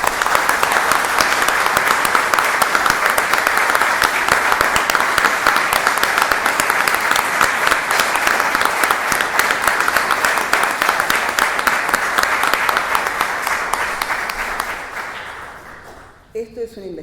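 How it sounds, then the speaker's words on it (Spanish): Sustained audience applause at the opening of an academic conference on the Malvinas at a university in La Plata: dense, even clapping from a large crowd, steady for about fifteen seconds before fading out, followed by a few stray sounds. "les pido un aplauso para los que están aquí y vinieron a escuchar esto"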